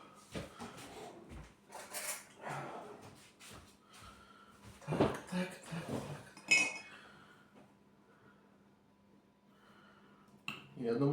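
A metal spoon clinks and taps against dishes in scattered bursts while someone eats red velvet cake, close by, with someone talking intermittently and a quiet pause near the end.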